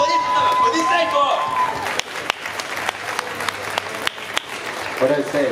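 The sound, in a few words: audience applauding at a convention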